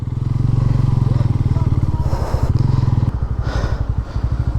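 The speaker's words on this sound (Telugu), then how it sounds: "మొత్తానికైతే బైక్లు వచ్చేసాయి." Motorcycles riding onto Nellore beach, a loud, close engine thrumming steadily with rhythmic pulses and some clatter and thumps, voices talking over it.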